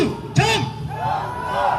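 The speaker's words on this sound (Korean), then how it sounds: "제가 부정을 외치면 여러분들은 선거만 외쳐주시기 바랍니다" A rally crowd on a street in Gwangbokdong, Busan, roars a one-word chant in reply to a leader's call, one short loud collective shout rising over a murmuring crowd and amplified voices.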